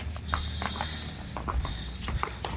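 A very tall buffalo at a dairy farm in Sultanpur village is led on foot, its hooves giving a steady series of close, dull clops over a noisy outdoor background.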